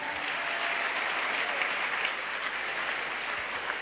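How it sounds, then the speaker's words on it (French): Steady applause from an audience at a church crusade in Douala, a dense and even roar of clapping that lasts throughout, heard from a moderate distance. "Acclamation."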